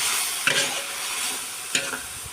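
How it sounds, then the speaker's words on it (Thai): Holy basil and pork are stir-fried over high gas in a pan, producing a loud steady hiss with two sharp bursts where the spatula tosses the ingredients. "ผัดให้กระเพราสลบสลายไปสักพักกลิ่นฉุนขึ้นมาแล้ว"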